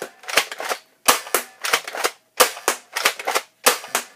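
Repeated sharp snapping shots from a Nerf Elite blaster launching suction darts, about seven close, loud pops in an uneven rhythm, each followed by a brief mechanical clatter, no talking.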